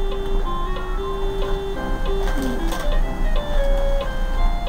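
A telephone rings with a melodic electronic ringtone of repeated steady tones, moderately loud over a busy background hum.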